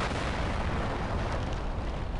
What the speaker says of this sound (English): Dude, this guy was laying down explosives.